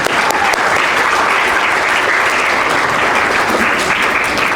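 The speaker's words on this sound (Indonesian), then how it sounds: "Mari kita beri tepuk tangan untuk Tuhan." Sustained applause from an audience at an elementary school graduation ceremony in Makassar, steady and dense throughout, with no voices over it.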